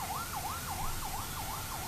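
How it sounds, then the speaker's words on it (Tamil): Ambulance siren wailing in a steady rising and falling sweep, loud and continuous on a road beside an Indian political talk recording, with traffic rumble underneath and no talk. "பாருங்க எத்தனை அவசர ஊர்தி, உயிர் காக்கும் ஊர்தி ஓடுது பாருங்க."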